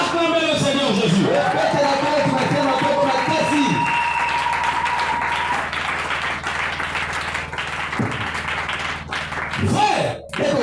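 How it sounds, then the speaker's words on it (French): A church congregation breaks into applause during a French-language sermon, a dense wash of clapping that swells after a preacher's voice and fades toward the end, with speech around it. "Acclamez le Seigneur Jésus"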